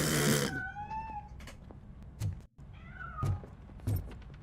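A cat meows twice inside the video game RoboCop: Rogue City, rising and falling cries with a short pause between them, heard close and clear over faint game ambience.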